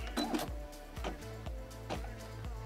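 Brother SE600 embroidery machine stitching out a design, its needle thumping in a steady regular rhythm with a mechanical whir, close and fairly loud with no talking.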